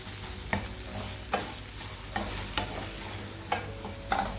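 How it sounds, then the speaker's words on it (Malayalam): Fried prawns are stirred into sautéed onions in a pan, with regular spoon scrapes and knocks about once a second over a continuous soft sizzle, no voices present. "അതിലേക്ക് നമ്മൾ പൊരിച്ച് വെച്ചിരിക്കുന്ന ചെമ്മീൻ ചേർത്ത് കൊടുക്കുക. എന്നിട്ട് നന്നായി മിക്സ് ചെയ്തെടുക്കുക"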